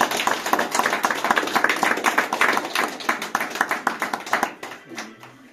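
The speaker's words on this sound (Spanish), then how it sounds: "palmas" Family members clap together at a civil wedding ceremony in Jauja, a quick steady burst of close-up, fairly loud hand claps that thins out and stops near the end.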